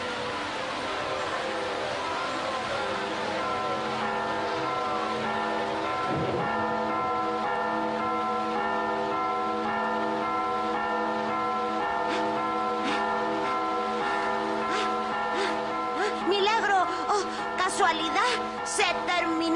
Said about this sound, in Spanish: ¡Toquen las campanas!